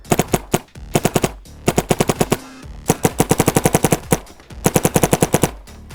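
Rapid bursts of gunfire from a toy-style gun being test-fired, sharp repeated shots in quick strings with brief pauses between them, loud and close, with no voices.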